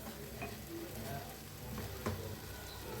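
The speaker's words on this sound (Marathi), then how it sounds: "आता मस्त असं भाजायला लागले." Masala roasting in a pan for a spicy egg curry, sizzling steadily with a soft fry-crackle, plus a faint stirring scrape and a small clink midway, close and quiet with no voices.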